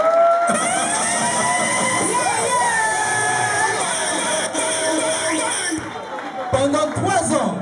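A crowd at an event cheers and shouts with high children's voices over a continuous wash of noise that holds steady, then dips and surges again near the end.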